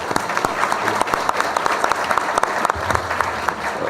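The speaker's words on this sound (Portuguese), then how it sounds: "peço que vocês se juntem a mim numa salva de palmas, agradecendo pelas apresentações" Audience applause at a fintech conference session, thanking the panel speakers after their presentations: dense, steady clapping from a seated crowd, loud and continuous throughout.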